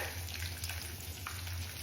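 Steady sizzling of a breaded pork cutlet frying in a hot pan, a continuous crackling hiss at moderate volume with no voices.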